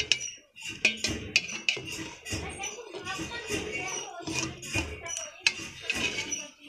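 Shemai pitha is stirred in a pan, giving repeated scraping and clinking strokes of a utensil against the pan in an irregular rhythm, close and fairly loud, with faint speech in the background.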